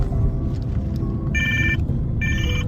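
An outgoing phone call rings back in two short electronic trills about a second apart, heard over the loud rumble of a car stuck in a traffic jam, with no talking.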